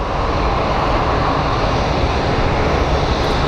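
An airliner pushed back at Phoenix Sky Harbor International Airport, with a steady, loud engine roar and hum that holds evenly through the clip without pause.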